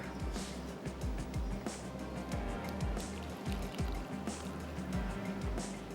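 Boiling water is poured into a cup of instant coffee to make black coffee, giving a continuous gurgling, trickling stream with rhythmic bubbling pulses.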